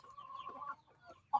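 Free-range village chickens cluck softly while pecking at maggots, a faint drawn-out cluck followed by a couple of short quiet calls and one brief sharper note near the end.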